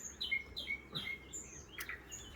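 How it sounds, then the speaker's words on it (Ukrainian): Birds singing outdoors: repeated high chirps and short whistled phrases from a few birds at moderate distance, over a quiet background, no voices. "Пташки тут співають."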